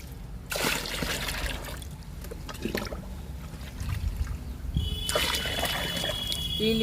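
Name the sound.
pouring liquid fertilizer mixed with water into plant pot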